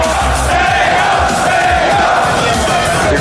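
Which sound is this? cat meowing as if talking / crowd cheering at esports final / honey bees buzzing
crowd cheering at esports final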